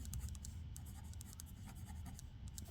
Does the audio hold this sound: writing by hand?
yes